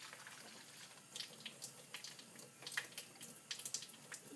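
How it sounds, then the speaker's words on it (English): Lukewarm tap water runs into a small denture cup, a faint, steady trickling stream with light splashes, heard up close with no talking. "you're going to fill their denture cup with lukewarm water"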